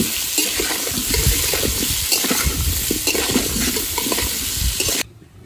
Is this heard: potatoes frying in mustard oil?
yes